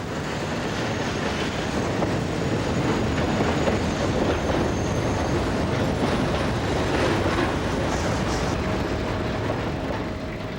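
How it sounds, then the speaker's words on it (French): Night trains rolling through the platforms of Lyon Perrache station, a steady, loud, continuous rumble of rail traffic with faint wheel clatter and squeal throughout and no voices. "c'est évidemment pour la batterie des grands trains de nuit que nous sommes venus arpenter les quais de Perrache"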